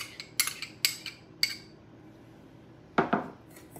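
Melted butter is stirred into a muffin topping in a bowl, a utensil clinking against the dish in sharp, uneven taps, a quick cluster, a pause, then two more knocks, close and fairly loud, no voices.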